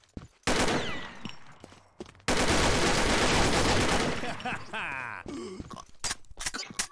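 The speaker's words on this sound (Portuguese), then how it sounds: "Eu dei um tiro." Rapid bursts of gunfire from the Combat Arms shooter game, one long sustained automatic volley and shorter crackling shots around it, loud and close, with a player grunting between bursts.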